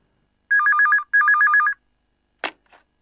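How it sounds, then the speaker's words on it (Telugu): A telephone rings indoors in two trilling electronic bursts, each about half a second long and close and clear. A short click and a faint shuffle follow in near silence. "రే, రింగ్ అవుతుందిరా, మాట్లాడు."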